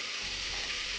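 Two cloves fry in hot coconut oil, giving a steady, close, hissing sizzle that holds evenly throughout.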